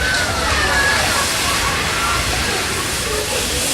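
Rushing, sloshing water from a physical effect on a studio backlot tour set, a loud steady wash that fills the clip without a break, with talk faintly beneath it.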